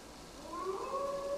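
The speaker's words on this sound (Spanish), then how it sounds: "Es el aullido de un lobo" A wolf howls in Assassin's Creed Valhalla, a faint, drawn-out tonal call that rises and then holds, heard alone against quiet ambience.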